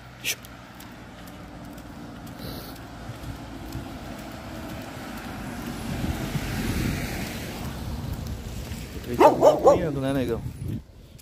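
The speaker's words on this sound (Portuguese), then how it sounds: "Um cachorro solto ali." A German Shepherd on a walk between rain showers barks in a short burst of several loud, close barks near the end, over wind and a surf-like rush, with people talking.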